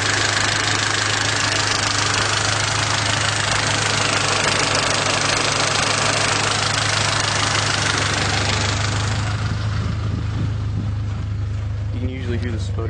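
A car engine idles steadily with a rough, uneven sputter, heard up close near the rear exhaust with fuel lines run inline; the low hum stays constant throughout while the texture thins toward the end.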